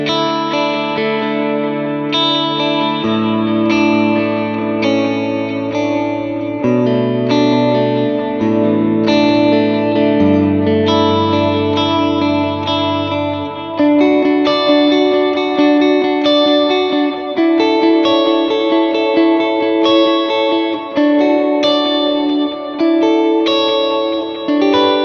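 Electric guitar with a worship-style effects tone, layered in chorus, echo and reverb so notes ring out into long tails; a steady, loud sustained strum-and-melody passage with no talking.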